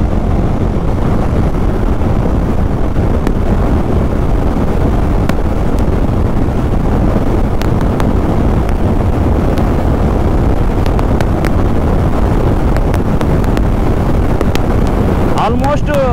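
A 2024 Hero Mavrick motorcycle with a 27 PS engine cruises at about 140 km/h on the road, heard as a constant loud roar of rushing wind buffeting the microphone that masks the engine.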